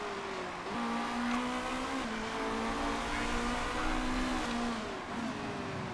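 Race car engines from the Motorsport Manager video game drone steadily for several seconds, a loud sustained whine with pitch shifts as the cars change gear and rev.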